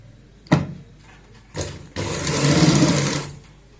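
A sewing machine stitching a baby frock gives a couple of sharp clicks, then one close, steady run of buzzing stitches lasting more than a second before it stops.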